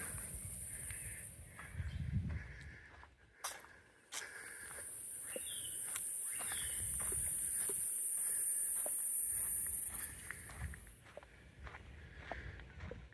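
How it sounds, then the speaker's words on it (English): Wild birds call outdoors in Costa Rica, including crow-like caws, over a high insect-like drone, with scattered rustles and footsteps nearby. "Various birds."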